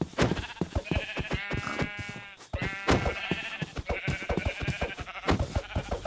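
Sheep in the video game Minecraft (RLcraft) bleat loudly and repeatedly, several wavering cries overlapping with short thumps and clicks of gameplay, close and without any talk.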